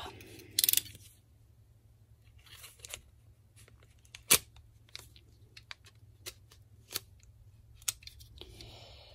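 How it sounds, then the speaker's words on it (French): Utility knife slicing through scrapbooking kit packaging, quiet scattered scrapes and short cutting strokes with occasional sharper clicks and rustles over a faint low hum. "je vais prendre le cutter"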